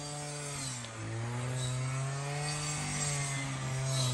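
A motorized machine cuts capim grass with a steady, droning engine hum that holds nearly constant throughout, close and fairly loud, with no talk over it.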